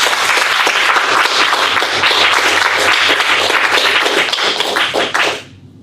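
Audience members clap at a Toastmasters meeting, a steady patter of hands from a modest group that stops abruptly after several seconds.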